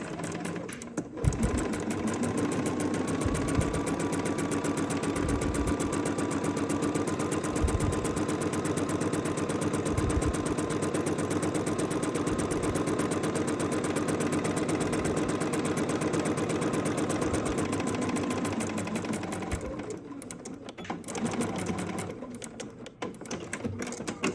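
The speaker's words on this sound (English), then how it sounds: "we are going to move this carefully under the needle. Over to back tack." A sewing machine stitches a quilt block, running as a fast, steady mechanical whir and needle chatter for about twenty seconds before easing to a stop, close and fairly loud with no talk over it.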